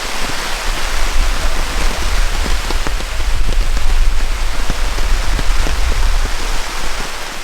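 Heavy rain drums steadily on a camping tent, a dense, close, continuous downpour with scattered sharper drops and low rumble, no voices.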